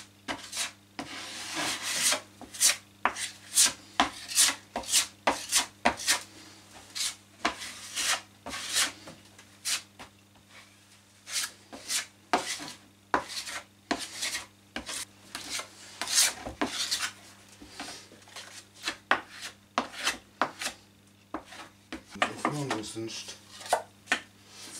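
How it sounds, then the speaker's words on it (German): A wide putty knife scraping filler across an OSB board, making repeated rasping, rubbing strokes at close range in an irregular rhythm with brief pauses between passes. "Jetzt gehe ich da mit einem breiteren Spachtel drüber."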